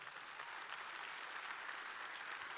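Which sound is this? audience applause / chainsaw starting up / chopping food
audience applause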